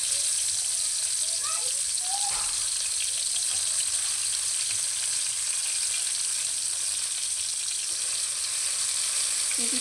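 Onion frying in a pan gives a loud, dense, unbroken hiss of sizzling oil that holds steady throughout, with a few faint clinks near the start.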